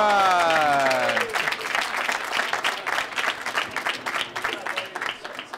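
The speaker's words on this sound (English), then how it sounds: "a big groan comes from the crowd" A crowd at a youth bowling show lets out a falling groan after a missed spare, then breaks into scattered clapping and murmuring.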